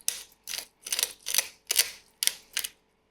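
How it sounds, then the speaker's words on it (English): A hand salt grinder twists over fresh tomatoes for lamb burgers, making seven crisp, close gritty crunching bursts in an even back-and-forth rhythm, each separated by brief silence. "To my tomatoes, I'm just going to grind some salt to it"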